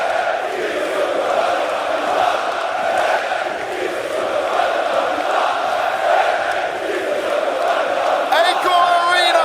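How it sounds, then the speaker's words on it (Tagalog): A large crowd roaring and shouting at a Counter-Strike esports semi-final in an arena, a sustained wall of cheering that barely dips throughout, in a big reverberant space. "You know how pumped up this crowd is."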